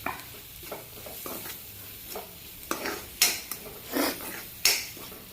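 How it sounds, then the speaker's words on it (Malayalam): Chickpeas being stirred into gravy in a pan, with a spoon scraping and clinking against the metal in a few sharp, close strokes over a soft background. "ഇത്തിരി കടല കൂടി ഒന്നിട്ടിട്ട് ഇതിനകത്തിലൊന്ന് ഇളക്കി കൊടുക്കാം"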